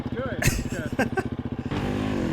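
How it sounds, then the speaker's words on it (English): A motorcycle is kicked over with a rapid chugging of cranking pulses, then the engine catches and settles into a loud, close, steady idle, while people talk nearby. "Will his bike start? Yeah, it started."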